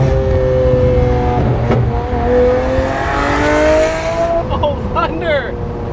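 Lamborghini Aventador S engine, a loud roar rising steadily in pitch as it accelerates, then cutting off sharply near the end, with excited voices talking over it.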